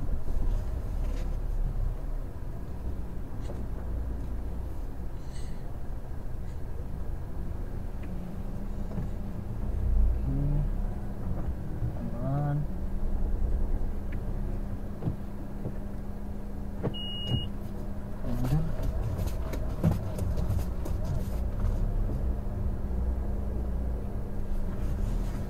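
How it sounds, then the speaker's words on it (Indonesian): A Honda Brio with a manual gearbox reverse parks, its engine idling in a low steady hum under muffled cabin noise, with a few faint clicks and a brief beep partway through. "Kita parkir mundur aja."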